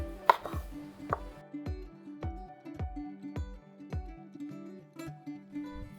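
A knife cuts a lemon on a cutting board while preparing a Thai sea urchin salad, a series of about ten sharp, evenly spaced chops that ring out clearly against a quiet kitchen.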